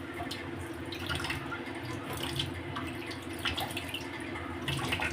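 Tap water running over coriander leaves as they are rinsed: a soft, continuous splashing stream with small irregular drips and spatters, fairly quiet and close.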